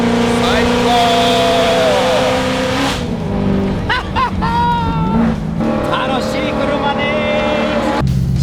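A loud Liberty Walk Ferrari F430 Spider engine revs and roars, rising and falling in pitch with gear changes, close and dominant over the whole stretch.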